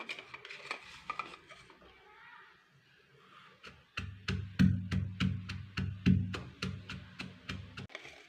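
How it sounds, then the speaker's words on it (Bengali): Garlic and onion being crushed with a pounding tool, with soft scraping and handling at first, then a steady series of about a dozen firm, close thuds in an even rhythm. "এই রসুনটা পেঁয়াজটা একটু পিষে নেবো, এটা একটু থেতো করে নেবো।"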